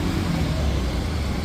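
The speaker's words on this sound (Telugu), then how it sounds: "అగ్గో ఒక బస్సు పోయింది చూసిరా" A bus passes on a wet road at night at Jubilee Check Post in heavy rain, a brief broadband road rumble and tyre hiss close by.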